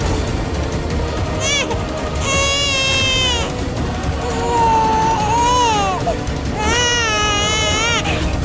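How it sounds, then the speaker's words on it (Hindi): An infant cries in repeated wailing bursts, loud and close, over a steady background hum. "बच्चे की रोने की आवाज"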